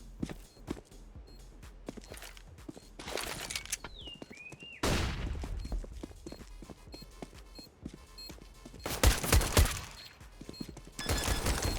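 Bursts of gunfire in a Counter-Strike retake round, sharp rifle and pistol shots clustered in rapid volleys with footsteps between, loud and close, no talk.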